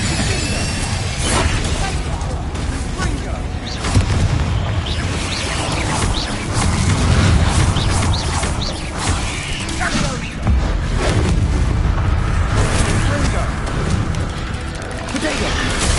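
Spell effects from the Hogwarts Legacy video game, fire casts like Incendio mixed with booms, crashes and whooshes. A dense, loud stream of bursts runs continuously beneath a speaking voice.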